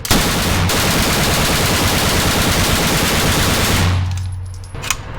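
A Sten submachine gun fires one long, rapid continuous burst at a shooting range, loud and close, then stops with a few faint clicks and rattles after.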